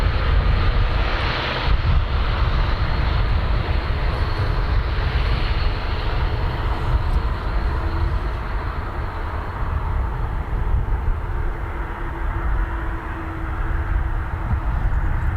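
A Boeing 737-8 jet airliner departs Dublin Airport, producing a steady, loud, broadband engine roar. The rumble stays sustained and dense throughout, with no voices audible over it.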